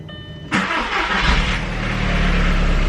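A cheap flipped car's engine cranks and catches after new ignition coils were fitted, bursting to life at once and then settling into a loud, steady run close by.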